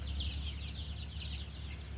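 A flock of young meat chickens, about ten days old, chirp and cheep continuously inside a barn, a dense layer of overlapping high peeps over a low hum.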